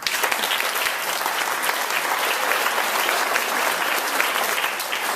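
A graduation crowd at the Globe University Madison spring 2012 ceremony breaks into loud, continuous applause. The clapping is dense and even throughout, with no voices on top.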